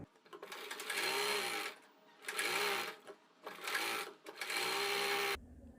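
A sewing machine stitches the lining edge of a blouse in three long, fast whirring bursts separated by brief pauses, close and fairly loud, with no speech.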